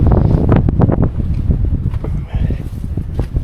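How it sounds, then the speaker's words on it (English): Strong wind on an exposed hillside buffets the microphone in loud, gusty bursts of low rumble, with rustling and a brief faint voice underneath. "So we come back out to the wind now and you'll not hear me."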